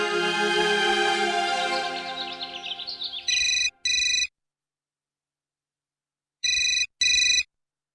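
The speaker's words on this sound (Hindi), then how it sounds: "अरे कोई फोन उठाता क्यों नहीं?" A telephone rings in two double bursts of electronic trills, bright and close, separated by silence; a melodic tone that slides downward fades out just before the first ring.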